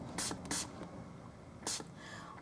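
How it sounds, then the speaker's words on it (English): A bottle of ELF daily brush cleaner sprays onto a makeup brush in three short, close hissing bursts, two quick ones and then a single one, against a quiet background. "we're going to spray it and wipe it"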